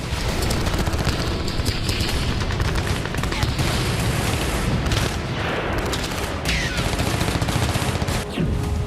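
Heavy gunfire from fighting around Korenevo in Russia's Kursk region: dense, continuous bursts of shots and booms, loud and close, with a constant roar and no pauses throughout.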